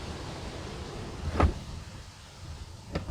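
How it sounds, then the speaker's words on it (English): A 2020 Mercedes GLS 400d AMG door is pulled shut by its soft-close mechanism, giving one soft, muffled thud and then a faint latching click a moment later, close by and without speech. "Also soft closing doors."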